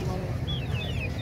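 Chickens cluck amid the busy crowd noise of a Sunday bird market at Shalimar Bagh in Lahore, brief faint calls under a steady hubbub.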